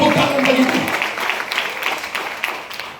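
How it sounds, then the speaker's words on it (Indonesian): A church congregation at a revival service applauds at length, a dense wash of clapping with talk and cries running over it throughout. "Tepuk tangan bagi Tuhan."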